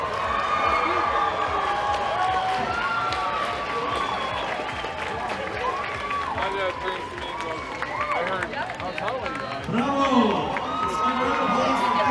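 A large outdoor crowd at a Ukrainian festival in Toronto at night fills the air with a dense, steady murmur of chatter, with occasional claps and shouts rising from the mass of voices.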